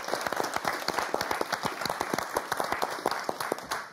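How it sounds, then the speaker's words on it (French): A studio audience on the French game show Motus breaks into warm, sustained applause, many hands clapping in a dense, steady rhythm close to the microphones. "Et on applaudit très fort Daniel et Michael."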